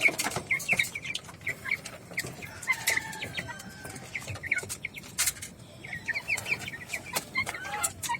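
Hungry farm chickens cluck and squawk continuously in a busy flock, close and lively, with overlapping calls throughout.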